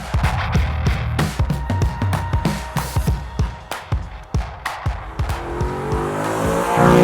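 A loud 4.2L V8 engine in an Audi B7 RS4 revs hard in repeated bursts, each rising roar snapping back, then settles into a deep rumbling idle.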